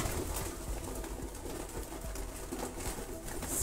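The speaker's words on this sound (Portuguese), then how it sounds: "E agora tá aí a pombada só alimentando aí" A flock of pigeons feeds on corn from a tray, giving close, continuous soft cooing with light pecking and shuffling and no talking.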